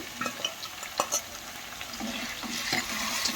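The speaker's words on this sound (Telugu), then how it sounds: "ఉల్లిపాయలు బాగా ఫ్రై అయిన తర్వాత ఈ చిన్న రొయ్యలు ఉన్నాయి కదా అవి వేసేసుకోవాలి" Small prawns dropped into a pan of frying onions sizzle steadily, with faint stirring and scraping, and no talk over it.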